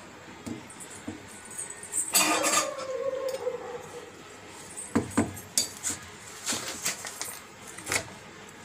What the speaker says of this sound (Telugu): బెల్లం వేసేసుకొని కొద్దిగా కలుపుకోవాలండి